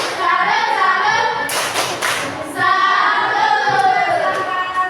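A classroom group claps a rhythmic 'salut' cheer for group 4 after their presentation: patterned hand claps and taps with a brief louder burst in the middle, voices chanting along throughout.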